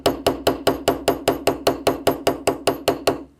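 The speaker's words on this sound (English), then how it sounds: "my dedicated ball peen hammer. Just working that, all I'm doing is working that metal around." Rapid, even ball peen hammer taps shaping a brass rivet, about a dozen sharp ringing strikes in steady rhythm, close and loud.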